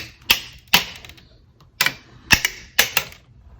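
Sharp mechanical clacks from a die-cutting machine pressing plates, several separate hits at uneven intervals, close and fairly loud against a quiet background.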